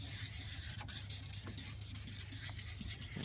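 A pad rubs steadily against an oxidized plastic headlight lens during a Mother's Headlight Renewal restoration, a continuous close scrubbing hiss with faint periodic scrapes and no talk.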